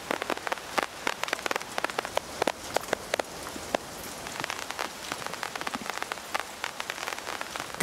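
Rain patters onto a surface, producing constant hiss and frequent crisp, nearby drop strikes scattered irregularly throughout, with no one speaking.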